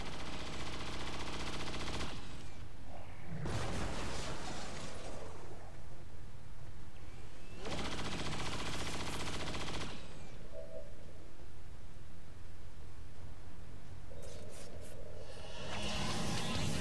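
Heavy automatic gunfire in XCOM 2 crackles in long sustained bursts, roughly three loud stretches separated by quieter gaps filled with scattered shots and rumble, with no voices.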